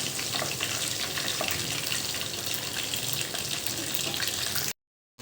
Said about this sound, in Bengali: মাছগুলো অলমোস্ট ভাজা হয়ে গেছে